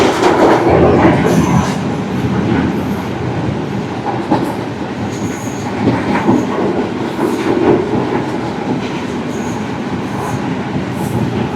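A small Sri Lankan rail bus train rumbles steadily along the tracks through open countryside, its wheels clacking rhythmically over joints and a faint squeal rising now and then beneath the constant ride noise.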